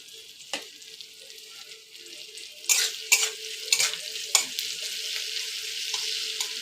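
Onions frying in oil for biryani beresta, salted only, give a steady broadband sizzle with a few sharper crackles and stirring scrapes, close and moderately loud with no talking.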